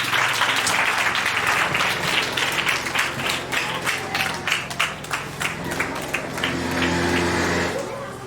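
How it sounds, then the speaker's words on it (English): An audience claps for a person at a Christmas sharing event, giving dense applause that thins into scattered claps before fading out. "Please clap for the person."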